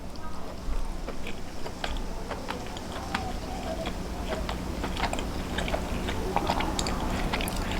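Chewing on roast pork dressed with a soy and Chinese mustard sauce, close-up crunchy bites and mouth sounds repeating steadily alone.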